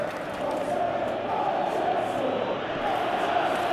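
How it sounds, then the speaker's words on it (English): Stadium crowd noise from the eFootball PES 2018 football video game, a steady continuous roar of fans reacting throughout, fairly loud and even with no clear peaks. "you can feel and hear how the crowd are reacting to all of this"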